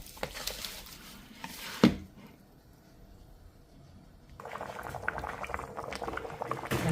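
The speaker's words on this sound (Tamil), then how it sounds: "நல்லா கொதிச்சிருச்சு." Liquid boils in a cooking pot, a close bubbling and hissing broken by one sharp clank near the start, then the boiling returns louder after a quieter pause.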